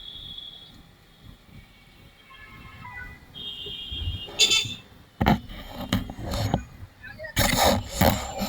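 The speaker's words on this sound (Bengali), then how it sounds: "আমার নিজের জন্য আমার মায়া লাগছে কারণ আবার হর্ন শুনতে হবে" Vehicle horns honk on the road during a motorcycle ride: two sustained tonal blasts, one short and one longer, followed by bursts of wind and rumbling traffic noise.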